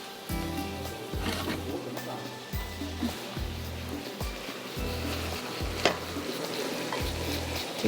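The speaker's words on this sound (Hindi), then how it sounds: "थोड़ा सा इसको मैश करेंगे।" Wooden spoon scraping and mashing onion and tomato in a pan over steady sizzling frying, with repeated low thumps in a slow rhythm.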